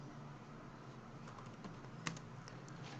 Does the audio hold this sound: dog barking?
no